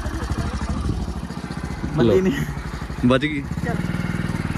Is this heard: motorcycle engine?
yes